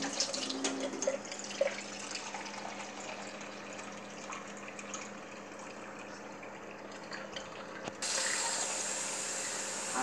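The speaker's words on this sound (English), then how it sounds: "now let's put some water in this bowl" Warm tap water running into a measuring cup for bread dough, a soft steady splashing stream from a faucet, fairly quiet and close, with the flow changing near the end.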